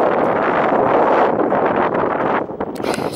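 Strong wind buffets the microphone on a coastal walk near wetlands, a loud, continuous roaring rumble that eases slightly near the end.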